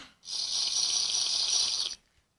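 Water-drinking sound effect in a Minecraft-style video game: a single steady burst of bright, hissing, gulping noise lasting under two seconds, fairly loud and alone with no talk.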